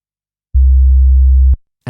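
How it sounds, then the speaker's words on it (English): A one-second sine wave generated on an SP404mk2 sampler: a single loud, pure low tone that starts and stops abruptly, followed by a brief bit of speech. "And now I have my 1 second sine wave."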